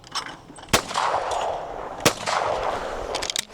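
Two sharp, loud shotgun blasts fired at clay targets on an outdoor range, about a second and a half apart, each followed by a brief rolling echo.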